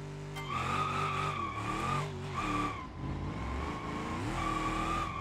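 A car drifts in the BeamNG driving game, its engine droning and revving steadily while tires squeal and skid in sustained waves, loud and continuous with no talking.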